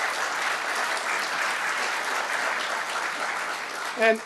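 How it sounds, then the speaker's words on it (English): Sustained audience applause for a gentleman at a FOSS4G conference talk, an even wash of many hands clapping from start to finish, ending with a brief voice. "So applause for this gentleman."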